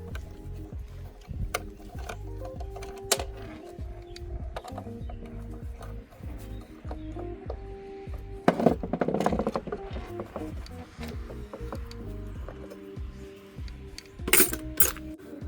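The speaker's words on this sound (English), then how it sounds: "Now I'm just removing the old hardware." Old metal hardware being unscrewed and pulled off a wooden dresser, giving scattered close clicks, rattles and small clinks, with a brief louder scraping burst midway.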